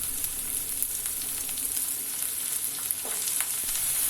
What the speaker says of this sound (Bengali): এগুলি হালকা ভাজা হলে প্রথমে আমি আলুর টুকরোগুলিকে দিয়ে দিচ্ছি